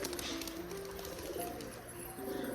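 A young golden pigeon in a loft gives soft, repeated cooing calls, fairly quiet and close, with a faint rustling background.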